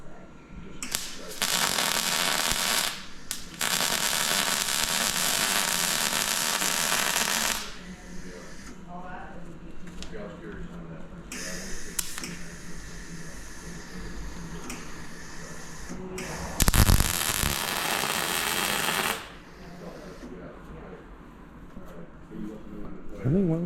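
A MIG welder laying beads, loud crackling hiss in several long bursts separated by pauses, with people talking in between and during the quieter stretches.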